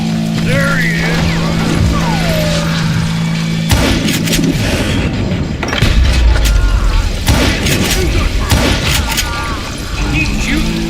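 Gunfire in the Western shooter Call of Juarez: Gunslinger, with repeated loud shots and booming blasts over a dense game soundtrack, while a voice talks over the action.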